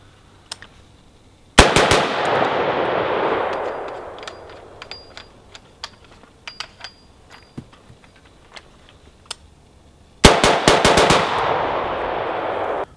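Rifle shots fired with a Griffin Armament brake shield and then with a full muzzle brake, sharp loud cracks in two tight bursts of rapid fire separated by a long quiet gap with scattered clinks and small impacts.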